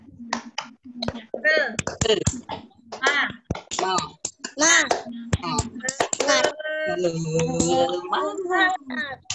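Students in a classroom do a rhythmic spirit clap (tepuk semangat), with sharp hand claps mixed into loud children's chanting and speech throughout.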